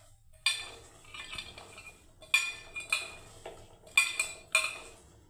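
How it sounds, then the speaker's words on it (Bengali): Hand mashing and mixing of onion in a metal bowl for sweet corn pakora batter, with bright clinks and scraping taps in short irregular clusters, close and fairly quiet, no voices. "এখন আমি পেঁয়াজটাকে বন্ধুরা ভালোভাবে একটু চটকে নিচ্ছি"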